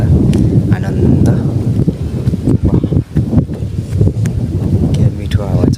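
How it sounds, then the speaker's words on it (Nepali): Steady wind rushes and buffets the microphone during a motorcycle ride through a quiet forest, with a low, continuous roar and a voice talking over it throughout. "के मिठो हावा चलिरहेछ हो"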